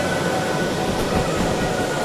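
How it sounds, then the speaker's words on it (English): Steam train in the Derail Valley video game being dumped, a loud, steady broadband rushing roar with rumbling low end that holds constant for about two seconds, no voices. "That was me dumping the train."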